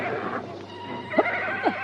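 A horse neighs twice in quick succession, close and fairly loud, with faint clip-clop and background murmur from a dramatized story scene.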